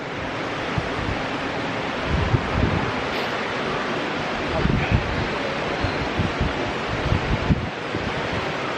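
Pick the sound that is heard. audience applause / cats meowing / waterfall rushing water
waterfall rushing water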